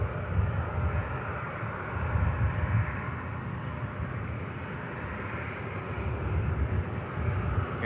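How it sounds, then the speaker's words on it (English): Ryanair Boeing 737 arriving from Oslo on final approach to Manchester Airport, a steady broad jet-engine roar heard from a distance, holding level throughout with no voices. "we do have a Ryanair from Oslo on final"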